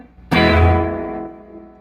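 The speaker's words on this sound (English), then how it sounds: "I've got the Tonemaster set at 4 with reverb" An electric guitar plays a single struck chord through a Fender Tonemaster Deluxe Reverb amp set at 4 with reverb on, ringing out clearly and decaying with a smooth reverb tail.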